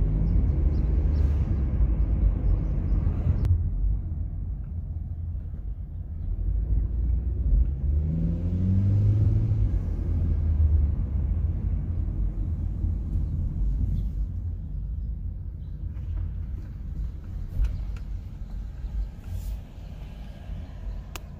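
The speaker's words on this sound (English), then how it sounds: "you actually hear the wastegate. And the turbo spool a little bit" A 2020 Chevrolet Equinox 1.5L turbo with a modified stock airbox, heard from inside as a steady engine rumble with the turbo spooling up into a rising whir, a brief wastegate release and a loud, continuous drone.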